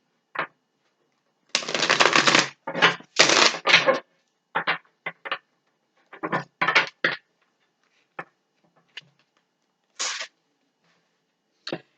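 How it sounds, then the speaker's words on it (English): A Crystal Vision tarot deck being shuffled by hand, with bursts of riffling card noise in short irregular runs separated by quiet gaps, close and crisp with no talk. "Let's give it a couple shuffles."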